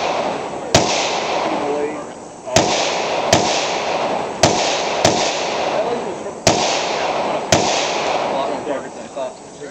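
Suppressed gunshots at a shooting stage, seven sharp cracks spaced about a second or two apart over steady outdoor noise and background chatter.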